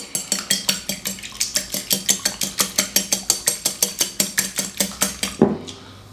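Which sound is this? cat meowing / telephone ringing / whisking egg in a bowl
whisking egg in a bowl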